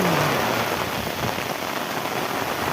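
Heavy rain pours steadily and loudly throughout, a dense, even wash of drops hammering a surface with no pauses and no voices.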